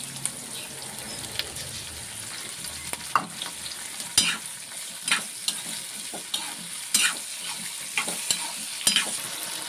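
Tomato sizzling and frying in a pan for a dried-ginger kuzhambu curry, a steady crackling hiss with repeated scraping strokes of a spoon stirring at an even rhythm, close and clear with no talk.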